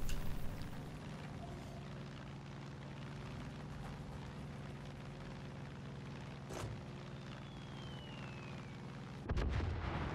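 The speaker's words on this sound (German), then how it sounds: "So, jetzt werfen wir mal eine Bombe ab." A bomb dropped from a plane explodes in Far Cry 5, heard as a couple of sharp, booming blasts over a constant, droning aircraft engine.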